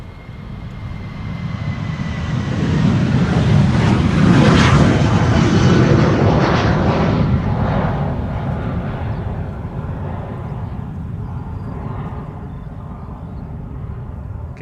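A KLM Boeing 737-700 airliner at Schiphol passes with a broad jet roar that swells to a peak mid-clip and then fades slowly as it moves away.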